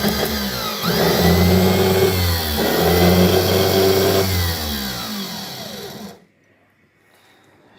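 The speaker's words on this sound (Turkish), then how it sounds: "Şimdi arabaya marşa basıyoruz hocam." A car engine, just fitted with new starter motor brushes, is cranked and comes to life, running loud and close with revs rising and falling in two swells before cutting off abruptly into near silence.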